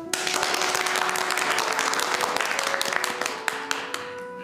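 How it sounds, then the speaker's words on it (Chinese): A village meeting room breaks into sustained, dense applause from a gathered crowd, the clapping loud and continuous throughout, with a faint hum beneath. "我希望大家用最热烈的掌声欢迎杜小双书记回来"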